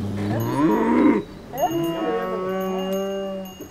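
Cattle kept by herding families in a valley let out two long, loud lowing moos close by, the first rising and strained and the second steadier and drawn out.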